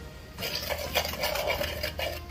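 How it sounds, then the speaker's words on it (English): Egg is mixed into minced pork for pork chops in a bowl, a busy run of wet slapping and clinking strokes against the bowl at a steady, fairly close pace. "When the meat goes in, you crack in the one egg, mix it well"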